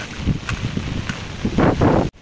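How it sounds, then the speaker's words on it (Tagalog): Strong typhoon wind in Hong Kong buffets the microphone in a steady roar, rising into heavier gusts near the end before cutting off abruptly. "Malakas pa rin ang hangin."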